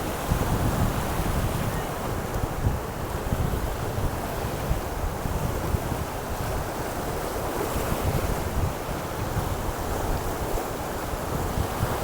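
The flooded Bhima river rushes past a bridge, its current carrying heavy logs and branches, making a loud, steady, unbroken roar of churning water mixed with wind buffeting the microphone and no voices.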